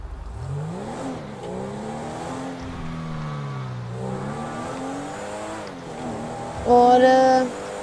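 A sports car in GTA V gameplay revs along a highway, its engine tone swooping up and down through several gear-like sweeps, then a brief sharp whine near the end, with no speech over it.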